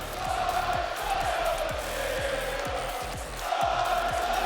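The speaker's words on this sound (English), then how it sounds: "The crowd serenade the winners of El Splashico." An esports arena crowd at the Rocket League RLCS 2021-22 Spring Split Major cheers the winners of the Liquid vs Moist Esports match with a loud, sustained roar and chanting that rises and falls, with rhythmic thumps beneath it.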